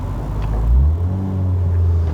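A tuned, naturally aspirated Honda City Type-2 VTEC engine drones low while driving, then its revs climb with a rising, droning note and hold steady, loud and close, with no talk.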